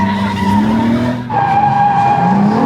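Tires squeal loudly as a car is flicked into a handbrake drift in a racing video game, the engine droning and shifting pitch through a continuous skid with a brief dip midway.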